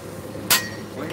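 A single sharp, loud hammer blow on metal at the anvil during forging, a bright ringing strike that fades quickly against a quiet background.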